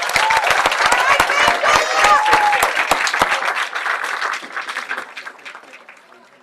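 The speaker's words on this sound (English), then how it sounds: "All-Ohio Honorable Mention, give a nice round of applause." Loud audience applause at a girls' high school state bowling tournament, dense clapping from a crowd with a few voices mixed in, fading away over the last couple of seconds.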